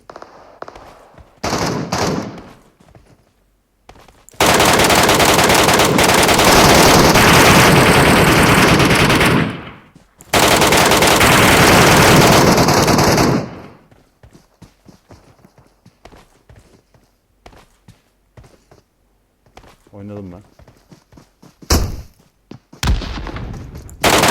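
Automatic gunfire from the video game PUBG Metro Royale: two long, loud, sustained bursts, then scattered sharper single shots and short volleys, with no talk.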